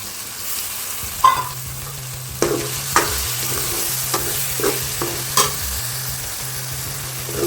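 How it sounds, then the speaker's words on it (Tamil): Tomato paste sizzles and fries in a pan for a gravy, with a steady hiss under scattered scraping and knocking strokes of a spoon stirring it, close and without speech. "இப்போது தக்காளி பேஸ்ட்டை ஆட் பண்ணிக்கலாம்"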